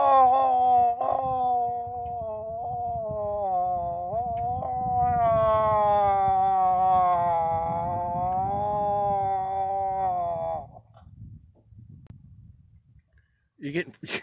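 A person imitates a moose cow call, a long, wavering nasal moan held for about ten seconds, followed by quiet rustling and handling noise.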